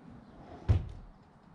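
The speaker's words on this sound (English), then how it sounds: "The doors open all the way and close all the way." Wooden barn doors in a workshop slide along their track and meet with a single dull thud, a soft rolling rumble building to one short knock before fading out.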